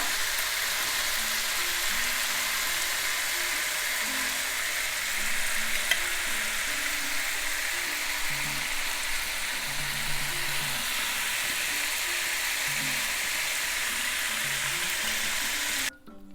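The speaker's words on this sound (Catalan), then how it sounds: "Ara ja tenim el bacallà fregit." Salt cod frying in a pan gives a steady, dense sizzle and crackle that runs unbroken and close, with no talking, ending abruptly.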